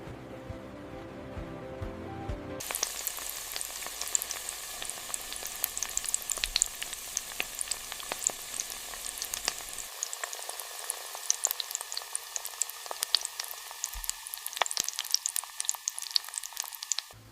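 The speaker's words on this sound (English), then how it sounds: "Next, the donuts slide into the giant automated fryers." Steady, loud sizzling of donuts frying in giant automated industrial fryers, a dense crackling hiss that continues throughout with no voices.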